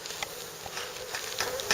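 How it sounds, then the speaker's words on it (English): A beekeeper smokes a hive of honey bees, and the swarm gives off a steady dense buzz with individual bees whirring close past, no speech. "Now, there's a lot of bees there."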